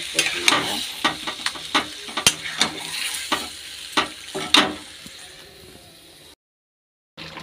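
Meat fries with spices in a pan while a spatula stirs it briskly, quick repeated scrapes and clinks over a close sizzle, then a short cut to silence before the sound resumes.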